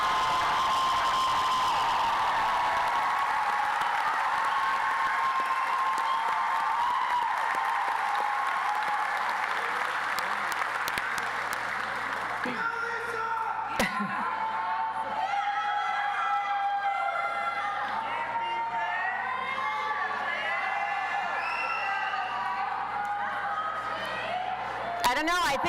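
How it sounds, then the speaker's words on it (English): Audience applause and cheering at the SUNY Broome 2024 commencement ceremony, a loud sustained roar of clapping and whoops that carries on for about twelve seconds, then gives way to a voice talking over the quieter hall. "give yourself a great big round of applause before we get started"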